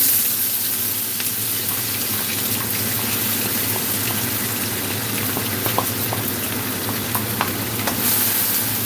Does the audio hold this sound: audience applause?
no